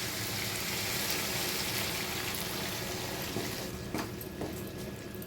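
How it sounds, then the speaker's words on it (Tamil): A steady broadband rush of water poured into a cooking pot of vegetables for kootanchoru, continuous and fairly close, easing near the end with a couple of small clinks. "காய் வேகிற அளவுக்கு தண்ணி விட்டுருவோம்"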